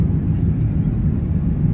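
Steady, loud low-pitched roar of a large airplane heard from inside the cabin, unchanging throughout.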